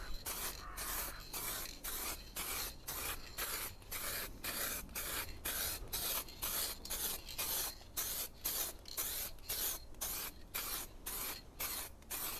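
Light bursts of spray paint are laid onto a car panel, a rapid series of short hissing puffs repeating evenly, close and alone.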